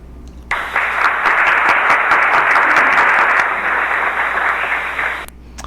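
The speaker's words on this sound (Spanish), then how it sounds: "Comentarios al Día les extiende este gran aplauso" Radio studio applause effect: a dense, loud burst of clapping sets in abruptly, holds steady for about five seconds, then cuts off sharply.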